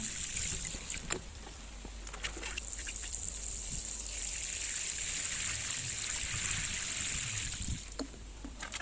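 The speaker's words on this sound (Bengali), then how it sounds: "এই চারাগুলোতে আমি জল দিয়ে নিচ্ছি" Water trickles steadily onto newly planted eggplant seedlings in a garden bed, a soft continuous splashing with a faint high outdoor hum behind it.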